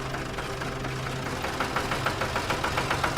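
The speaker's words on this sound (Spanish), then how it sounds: "en ese momento la poderosa máquina se encendió" A heavy tractor engine starting and idling roughly nearby, with a low rumble and a rhythmic knocking pulse that grows more pronounced toward the end.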